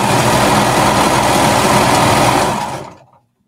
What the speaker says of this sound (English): we're just going to sew now around the waistband,